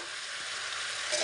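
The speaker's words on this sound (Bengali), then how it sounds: "গুড় দিয়ে আবারও নেড়ে ছেড়ে নিব।" Chaltar (elephant apple) pickle is stirred with jaggery in a hot pan, giving a steady, close hiss and sizzle with faint scraping, no voices.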